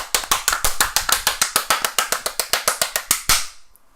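A round of applause sounds as sharp, evenly spaced claps in a fast, steady rhythm, close and loud, running for about three seconds before stopping abruptly.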